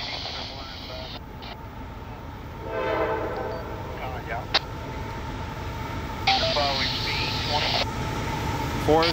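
A CSX Q141 freight train approaches southbound, sounding two long horn blasts over a steady rolling rumble that builds as it draws near.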